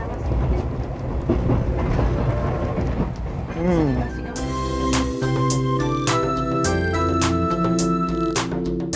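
Ride aboard a 70-year-old SL steam locomotive train in Shizuoka, Japan, with steady rumbling carriage noise, a series of sharp rhythmic clanks and tonal whistling accents, and a voice briefly murmuring.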